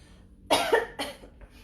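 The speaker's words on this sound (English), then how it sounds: "Please don't be alarmed if I cough." Two close, sharp coughs in quick succession, the first louder and rougher, with a faint breathy trailing sound after.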